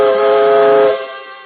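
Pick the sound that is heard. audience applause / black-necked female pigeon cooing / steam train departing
steam train departing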